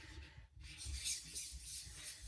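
A coarse M25 diamond knife-sharpening plate being rubbed clean, a soft, steady abrasive scrubbing that continues throughout, close by and fairly quiet.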